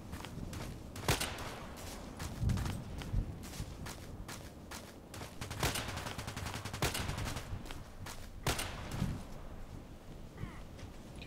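Suppressed shots from a silenced weapon in the shooter game Contract Wars crack out in sharp, irregular bursts, mixed with footsteps and shuffling, quiet overall, with faint talk in the background.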